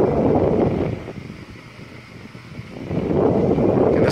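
A 1936 Emerson Seabreeze oscillating fan with a one-speed 2-pole motor runs steadily, giving off a soft whooshing rush of air. The sound swells and dips as the fan sweeps toward and away, with no voices.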